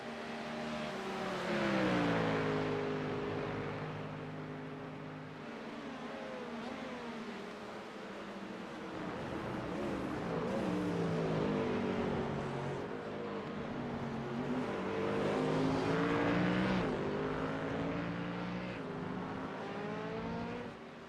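GT3 race cars fighting for the lead at Spa in a six-hour sim race, engines droning and revving with rising and falling pitch as gears shift through corners, steady and close with no voices.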